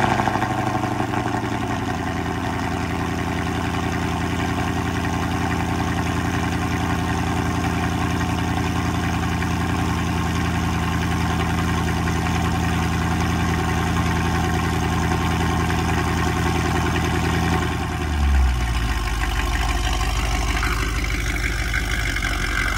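A supercharged Mercedes E55 starts up and settles into a loud, steady idle, with a deep continuous rumble close by and a brief blip of revs near the end, with no talking.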